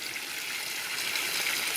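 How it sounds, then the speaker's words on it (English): A garden hose runs into a fish pond that is being topped up, giving a steady, close trickle and splash of water that holds even throughout, with no talking. "I've got the hose going, filling up the fish pond"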